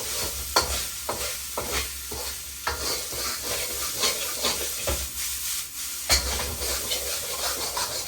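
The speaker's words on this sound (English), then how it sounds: "I'm gonna add a splash of sesame oil right around the edge" Sesame oil sizzles steadily in a hot frying pan with constant crackling hiss, punctuated by occasional scraping stirs and clinks.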